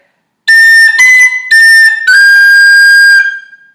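Tin whistle plays a short phrase of the tune Scatter the Mud (Scaip An Puiteach): four bright, close notes in quick clusters, the last held and fading, alone with no talking.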